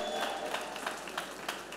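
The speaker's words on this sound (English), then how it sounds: "can we give the Lord Jesus a big round of applause for that?" A church congregation gives a round of applause, a faint, distant, steady patter of many hands clapping.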